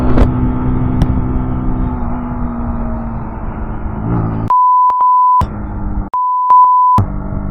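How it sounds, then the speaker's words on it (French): Two bleeped tones over the sound of a Zontes Roadster 125cc motorcycle on the road, each a steady mid-pitched beep lasting about a second, cutting through the steady engine and wind noise. "ça sera bipé"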